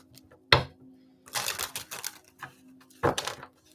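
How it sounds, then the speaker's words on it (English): A deck of tarot cards is shuffled in a few quick bursts, sharp riffling clatters and softer fluttering slides, close and fairly quiet with pauses between. "Let me go ahead and shuffle the deck here one more time."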